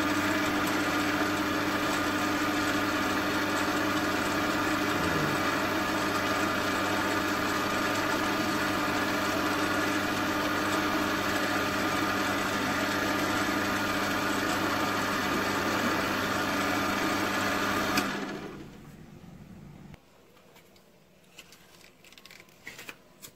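A lathe turning PTFE stock for a valve chamber hums steadily and loudly for most of the stretch, then winds down to near quiet with faint clicks at the end.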